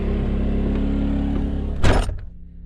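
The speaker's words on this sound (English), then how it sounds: "Just want to hear the sound level of this generator" A generator mounted on the back of a 1999 Ford F350 hotshot truck drones as a steady low hum heard from inside the closed cab, then a single dull thunk near the end.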